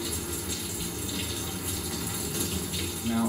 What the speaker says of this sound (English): And another rinse.